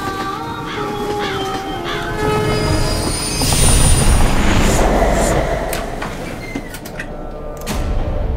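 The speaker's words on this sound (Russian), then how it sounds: "Сейчас находимся в поезде, который направляется... на курорт Санкара!" A passenger train heading to a resort rolls along the rails, with a steady loud rumble, rhythmic wheel clatter and high metallic squeals and horn-like tones rising and swelling midway, heard alone without talk.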